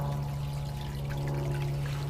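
Water from a small pump running about 7.5 gallons a minute pours steadily down a steep run, a continuous near rushing flow with a low motor hum beneath it and no talk.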